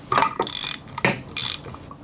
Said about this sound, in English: So I got a 5/16 Allen here now instead of the big 3/4 Rockerbox nut. And then tighten these up on each other.